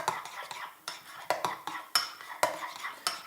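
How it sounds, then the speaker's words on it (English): Chives being whisked into mayonnaise in a bowl: quick, regular metallic clinks and scrapes of a whisk against the dish, close and fairly soft, with no talking. "A little whisk."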